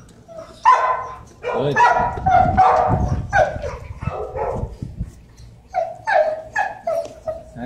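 A shelter dog barks and whimpers in short bursts close to the microphone while someone talks and praises it during a sit-training session.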